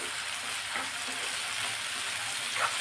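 Onion and ginger-garlic paste frying in a pan on a griddle make a soft, steady sizzle at moderate distance, with a faint clink of a utensil; no talking.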